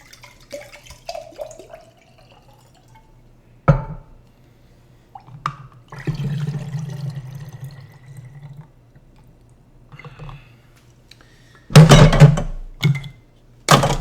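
Lemon juice poured into a ginger lemon drink, a brief trickle of liquid amid a low hum, soft clinks and drips, ending in a louder splash and knock.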